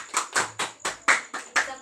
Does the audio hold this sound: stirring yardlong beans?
no